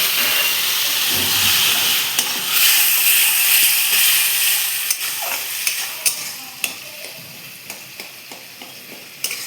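Bitter gourd curry stir-frying in a pan after a little water is added, a loud steamy hiss and sizzle that gradually fades, broken by repeated spoon clinks and scrapes against the pan.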